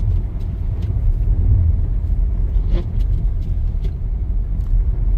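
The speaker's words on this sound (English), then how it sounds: "And I'm riding on snow and ice." Steady low road rumble from a 2012 Toyota Camry driving over snow and ice in cold weather, a continuous near engine and tyre drone with faint higher clicks, no talking.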